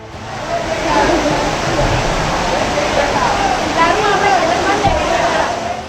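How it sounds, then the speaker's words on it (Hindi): Heavy-rain floodwater rushes in a strong current across a road where a car is caught. The roar is loud, close and continuous throughout. "इस बीच पानी की धारा और तेज हो गई और सामने से पानी का तेज बहाव"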